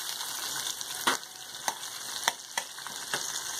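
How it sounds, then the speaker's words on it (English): Onion dropped into hot oil already holding green chillies and cumin seeds, a steady crackling sizzle broken by several sharp spatula scrapes and clinks, close and moderately loud. "Add the onion."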